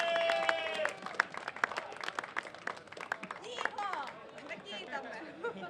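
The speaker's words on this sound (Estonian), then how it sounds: "Aplaus!" An outdoor club gathering applauds its president with brief scattered clapping, cheers and crowd chatter, while voices carry over the top.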